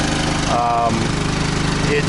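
An engine runs steadily on a truck bed, a loud continuous rumble with a brief higher tone partway through.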